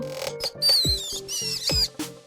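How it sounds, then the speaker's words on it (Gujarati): Mouse in a children's story about a deer, a crow, a mouse and a turtle living by a lake, giving a few short high chirping squeaks over a soft musical backing, clear and close. "ઉંદર"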